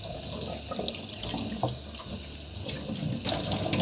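A tap runs steadily into a sink while suede shoes are rinsed of shampoo. The rushing water sounds close and fairly soft, with faint splashing and no talk.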